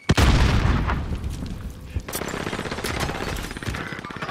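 A grenade blast and gunfire in a first-person shooter game, opening with a loud, close boom, followed by steady rapid gunshots and another sharp crack, a dense, continuous barrage with no talk.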